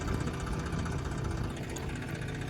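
A tractor engine runs steadily at close range, a dense low rumble with a continuous mechanical drone and no pauses or voices.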